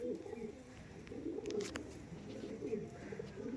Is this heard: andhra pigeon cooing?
yes